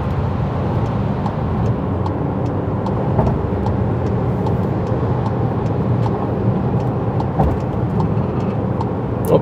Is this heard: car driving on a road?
yes